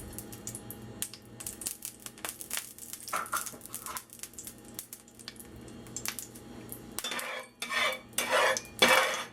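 Eggs whisked for a breakfast burrito with sausage and kale, a rapid clattering of whisk against bowl in busy bursts, with brief scraping and clinks, close and moderately loud, no voices.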